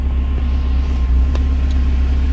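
A Volvo engine with camshaft work and a kickdown cable modification pulls hard in second gear, a loud, steady, close droning rumble that holds throughout.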